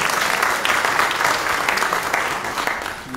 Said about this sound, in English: Let's give a clap offering to the Lord.